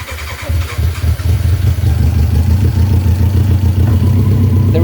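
A BMW K1100LT motorcycle engine turns over and catches on its first start after assembly, settling into a loud, steady, throbbing idle close by.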